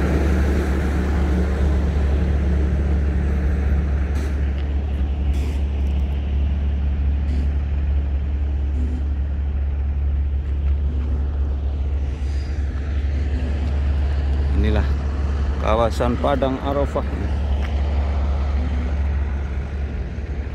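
A car drives across the Arafat plain among the tents, with a steady low engine and road rumble throughout, close and constant, and someone speaking briefly near the end.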